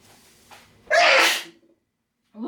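One loud, close sneeze set off by black pepper while someone is cooking paprika chicken and rice. A short, sharp intake comes first, then the sneeze bursts out, followed by silence and the start of a voice.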